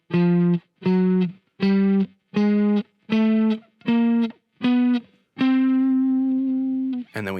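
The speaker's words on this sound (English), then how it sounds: "if you played semitones all the way up, that would sound like this." Eight separate distorted electric-guitar notes climb by semitones from C on the fifth string, each struck and cut off in an even rhythm, the last held longer and ringing out, loud and close.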